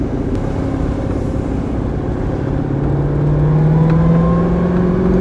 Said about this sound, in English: you'll probably be able to hear the whine more because there's no exhaust